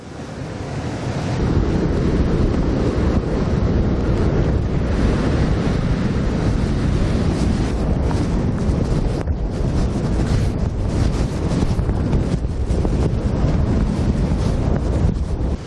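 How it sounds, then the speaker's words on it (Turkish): Big surf crashes continuously on Konyaaltı beach in Antalya, Turkey, during a storm while strong wind roars and buffets the microphone, loud and close, with no voices. "Şiddetli rüzgar nedeniyle dünya ünlü Konyaaltı sahilinde oluşan dev dalgalar"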